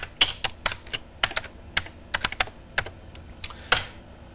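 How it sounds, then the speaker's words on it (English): Keys clatter on a computer keyboard as text is typed, giving a steady run of close, crisp clicks with an uneven rhythm and no voices. "and simply type in our text"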